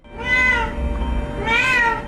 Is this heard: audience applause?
no